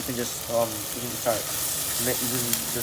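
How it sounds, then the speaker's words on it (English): Beef pieces browning in a pan for Japanese curry, a steady hiss of sizzling fat under a voice speaking over it. "Now I just want to let them brown. The meat has started taking a browning."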